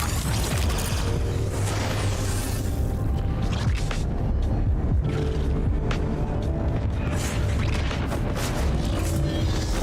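Forward artillery on a Warframe railjack firing in a video game, heavy booming blasts and crashing impacts layered over a constant loud rumble, with no clear talk.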